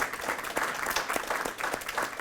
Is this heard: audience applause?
yes